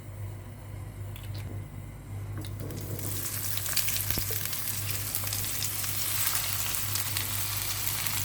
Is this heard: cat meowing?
no